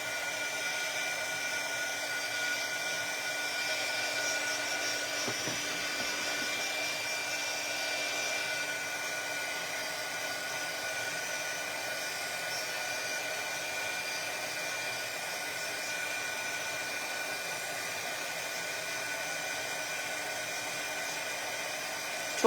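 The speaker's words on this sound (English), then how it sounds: "I'm going to bring in my heat tool and just start and" Handheld heat tool blowing hot air to dry craft work, a steady, continuous whooshing hum holding at an even level throughout with no talking.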